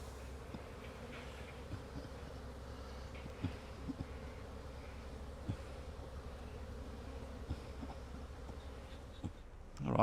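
Korora honey bees drone steadily around an opened hive, a continuous low buzz with individual bees zipping closer now and then, no voices.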